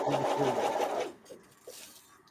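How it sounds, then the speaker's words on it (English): A sewing machine runs with a rapid, steady mechanical whir for about a second, then stops, leaving faint quiet handling noises. "let me know if my sewing machine is too loud"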